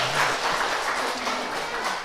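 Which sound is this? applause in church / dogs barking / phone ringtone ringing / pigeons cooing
applause in church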